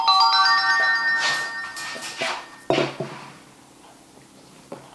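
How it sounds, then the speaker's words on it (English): A mobile phone ringtone plays loud and close in a home kitchen during vegan doughnut baking, a tonal melodic ring that cuts off partway, followed by a few clatters and quiet room noise. "Sorry about that, it's my phone."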